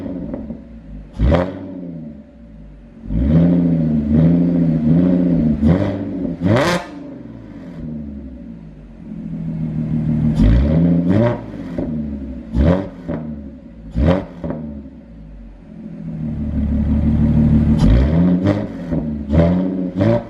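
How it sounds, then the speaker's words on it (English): An Audi S5 with a Borla exhaust and resonator delete is given a series of short, sharp revs over a rumbling idle. Each burst swells loudly and falls back, with several quick blips close to the car and no talking. "let me go ahead and give you some light revs once it warms up a bit."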